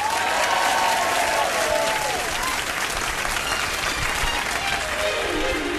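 Theatre audience at the Edinburgh Festival applauding to welcome the Rat Pack Live tribute act on stage, a full, steady roar of clapping throughout with faint crowd voices beneath.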